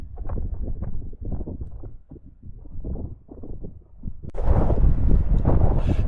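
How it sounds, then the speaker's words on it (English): Wind blowing over the seaside cliffs at Flamborough Head on the Yorkshire coast, rumbling and buffeting the microphone in uneven gusts that grow into a loud, steady roar near the end. "and the wind's blowing quite nicely"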